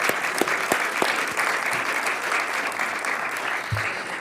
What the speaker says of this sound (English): You can stand up and be clapped for.